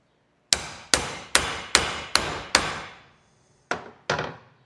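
A hammer drives U-joint needle bearings into a driveshaft yoke: six sharp, ringing metal strikes at an even pace, a short pause, then two more blows, close up and loud with no talking.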